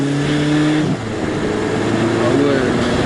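A 2018 VW Polo 6 GTI engine held high in the revs in S mode, a steady harmonic drone that drops in pitch near the one-second mark and then rises again, loud and close inside the car.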